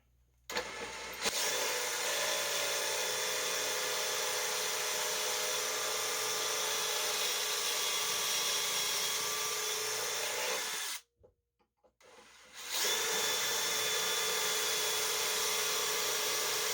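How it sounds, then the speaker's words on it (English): Power drill boring a pocket hole in wood for a simple desk build, a sustained whirring whine for about ten seconds, a short pause, then a second steady run. "we can put that in our drill, and then we can go ahead and drill our pocket hole."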